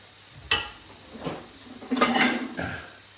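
Chicken being plated into a pasta bowl in a kitchen: a few clinks and scrapes of utensils against crockery, close and moderately loud, with a faint sizzle beneath.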